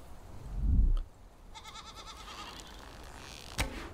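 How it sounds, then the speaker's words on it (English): Goats bleating in a survival video game on an island, a single low bleat near the start, followed by quieter game ambience and a brief sharp click near the end. "There's goats down there."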